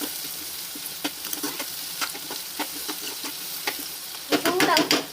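Marwai clams fry in a pan as a spoon stirs them, giving off a soft, steady sizzle broken by regular scraping strokes, with a louder burst of clattering stirring near the end.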